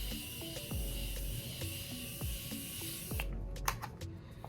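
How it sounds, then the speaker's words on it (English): Morphe setting spray misted onto a made-up face in several short bursts, soft close hissing pumps repeating over a quiet room. "I am going to go ahead and use the Morphe setting spray to set this face"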